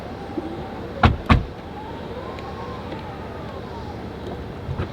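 Falcon-wing doors on a 2019 Tesla Model X P100D Raven, heard as two sharp mechanical clunks close together followed by a soft rising motor whine as the door moves, with steady background noise throughout.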